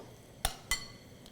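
Chopped ingredients stirred in a bowl, two sharp ringing clinks of a utensil against the bowl followed by a faint third tap, close and otherwise quiet.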